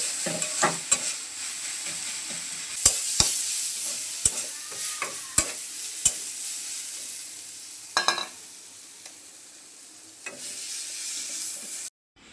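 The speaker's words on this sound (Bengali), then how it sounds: "শাকটা প্রায় হয়ে গেছে, এখন একটু নাড়াচাড়া করে নামিয়ে নেব।" A spoon stirs greens (saag) in a hot pan, a continuous close sizzle with repeated sharp scraping clicks against the metal, spaced irregularly over several seconds, before the sound cuts off abruptly at the end.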